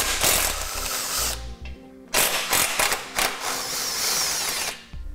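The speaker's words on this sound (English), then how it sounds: "We'll use a 12mm socket to remove the bolts." Bolts come out with a 12mm socket while a Blue Ox base plate kit goes onto a 2008 vehicle, a loud, close, continuous mechanical whirring that breaks off briefly midway, then resumes until near the end.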